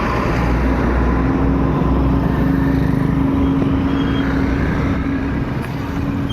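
A dump truck hauling removed road materials, along with other traffic, passes on a highway under upgrade near Poblacion: a loud, steady engine rumble with a constant low hum and no gaps.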